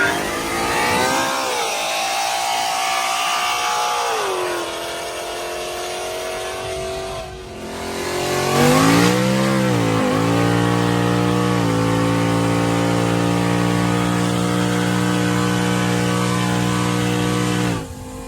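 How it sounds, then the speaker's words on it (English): An 1100+ horsepower Vortech-supercharged Ford Mustang launches hard, its engine revving up through rising pitch sweeps with audible shift points, then holding a loud, steady roar close by with no talk. "I'll play a video of the car launching now"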